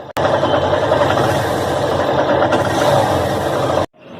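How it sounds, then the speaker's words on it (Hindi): Honda CB Hornet 160R motorcycle idling, its exhaust a steady, close mid-pitched engine drone held evenly for about four seconds before cutting off abruptly. "चलिए अभी इसकी एग्जॉस्ट साउंड सुनते हैं।"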